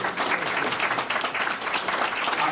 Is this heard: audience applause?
yes